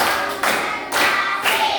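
A group of students clapping together in a classroom, sounding a few sharp, unified bursts of claps with brief pauses between them, close and fairly loud.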